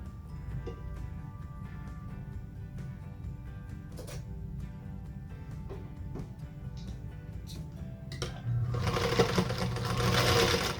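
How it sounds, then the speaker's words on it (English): A sewing machine stitches quilt blocks, a steady close mechanical whir with small clicks that speeds up and grows louder toward the end, with no voices. "We'll sew those square in a square quilt blocks to the outside of those hourglass units"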